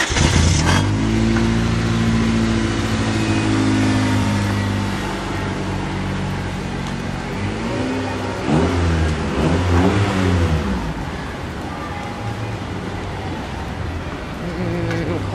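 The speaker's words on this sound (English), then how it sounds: "Car going the wrong way." Traffic on Hart Street in Bushwick, Brooklyn, with a car revving and driving by the wrong way, its engine loud and close for the first seconds, then easing off into a steady street rumble.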